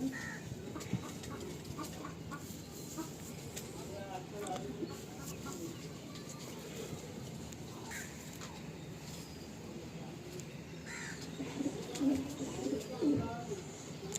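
Kalanka high flying pigeons make soft, faint cooing and fluttering sounds under steady background noise, with people talking throughout and a couple of brief louder bursts near the end.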